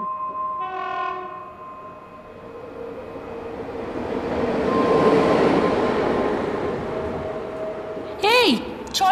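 A train at a station about to depart sounds its horn in a few tonal blasts, and a loud rush of a passing train rises and fades, ending with another high squeal.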